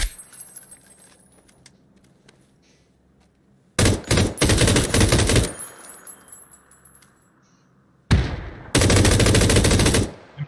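M249 machine gun in the PUBG battle royale game fires two long, loud, close sustained bursts separated by a quieter pause, with rattling metallic clinks trailing off after the first burst.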